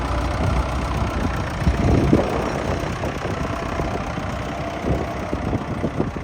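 An old Indian DI tractor's diesel engine idles in a steady, rough, knocking chug, loud and close, with no talk over it.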